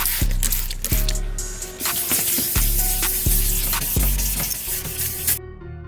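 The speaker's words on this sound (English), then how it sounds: "Spray it down. Make sure it's lubricated." Water sprayed onto 1000-grit sandpaper while wet-sanding a car taillight: hissing spray bursts mixed with wet scrubbing and rhythmic low thumps, fairly loud and close, ending abruptly.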